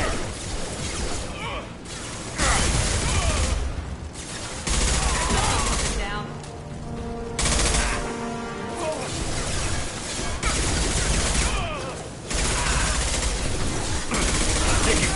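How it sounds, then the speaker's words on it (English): Gunfire from Mass Effect Legendary Edition as Blue Suns mercenaries and Vorcha shoot, loud bursts of shots and crashing impacts in several clusters, separated by brief quieter gaps. "The Blue Suns and Vorcha are shooting anything that moves"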